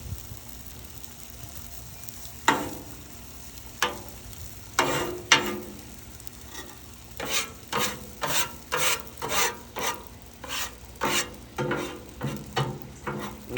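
Fried rice stirred and scraped in a hot pan before being transferred, a rhythmic run of close, loud scraping strokes over a steady background hiss, with a few isolated scrapes first.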